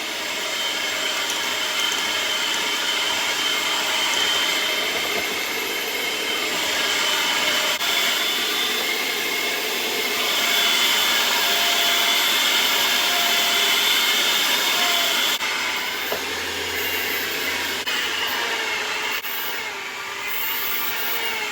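An electric stand mixer works a batch of sweet spiced hot cross bun dough with raisins, giving a steady, continuous whirring drone that holds close and level for the whole stretch with no talking.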